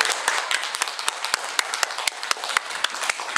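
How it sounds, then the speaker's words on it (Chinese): An audience at a meeting applauds as a special guest is introduced, a dense, steady wash of many hands clapping with sharp individual claps standing out, sustained throughout at moderate loudness. "热烈掌声"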